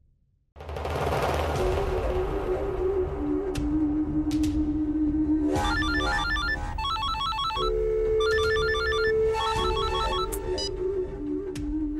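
A telephone rings in a TV drama scene, a loud electronic ringing pattern of repeated rapid trills over a steady musical background.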